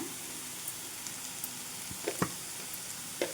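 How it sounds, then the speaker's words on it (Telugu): A spoon stirs chilli powder into ridge gourd curry in a pan, giving a soft steady sizzle with light scraping taps toward the end. "ఈ కారం కలిసేలాగా కాస్త అటు ఇటు కాస్త తిప్పుకోవాలి"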